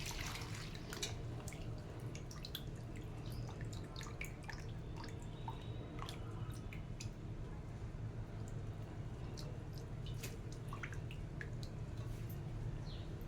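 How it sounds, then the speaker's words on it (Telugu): Husked black gram dal being washed in water, with steady sloshing and scattered drips and splashes running throughout, close and continuous. "వాటర్ తక్కువగా ఉన్న టైంలో ఇలా ఫస్ట్ కొంచెం సగం పొట్టు వచ్చేదాకా కడిగితే తర్వాత వాటర్తో చక్కగా కడుక్కోవచ్చండి"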